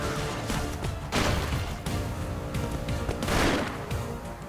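Video-game gunfire rattles in dense bursts over a busy, loud mix of game sounds, with several sharp crashes and impacts standing out across the stretch.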